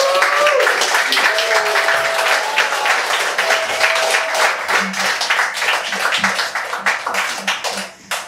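Loud applause from a live audience at an evening show in New York, with dense clapping that fills the whole stretch while a few whistles rise and fall early on, then thins slightly near the end.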